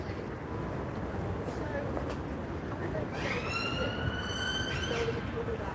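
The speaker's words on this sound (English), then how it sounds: "Another emergency services can be heard from down there. Ambulance this time." An ambulance siren wailing from down the street near a Gloucester station, rising and falling at a distance under steady background noise before swelling louder with overlapping tones.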